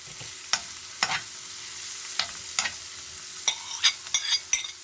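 Onion and herbs frying in a pan for a savoury vegetable quiche, a soft steady sizzle with scattered clacks of a utensil stirring, close and fairly quiet, no voices.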